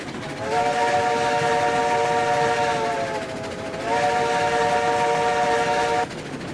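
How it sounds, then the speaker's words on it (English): A steam train whistle in the video game RailRoads Online blows two long, loud blasts, the second after a brief dip, over a constant rumbling background, then cuts off. "And it's got a great whistle."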